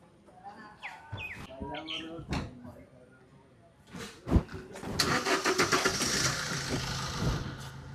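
A car engine, on a used Ford Ikon, cranks and starts as the car pulls away, rising into a steady close engine run after earlier talk and clatter.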